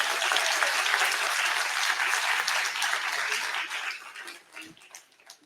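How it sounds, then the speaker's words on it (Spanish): A crowd applauding steadily for senator Aída Avella, president of the Unión Patriótica, at a political gathering; the clapping is dense and fairly distant, then thins out and fades near the end. "Un fuerte aplauso."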